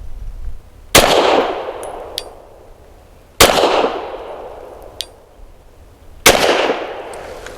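Three sharp pistol shots from a Glock fired with Federal 138 grain synthetic jacketed hollow point rounds, spaced a few seconds apart, each a loud crack with a ringing decay, and no voices.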